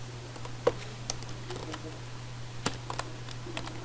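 Someone types on a computer keyboard with quiet, irregular key clicks and a few sharper taps, heard close over a steady low electrical hum.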